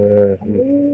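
Domestic pigeons give a single close, soft coo lasting about a second, with no talking.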